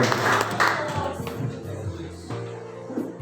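Audience in a school hall clapping during a student council election debate at SMA Negeri 3 Amlapura, a brief loud burst of claps at the start that quickly fades under hall noise.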